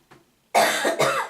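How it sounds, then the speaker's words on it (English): A faint throat sound, then one loud, close cough with a second quick burst right after it. "I'm sorry, I'm coughing."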